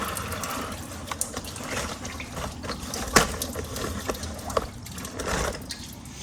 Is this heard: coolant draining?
yes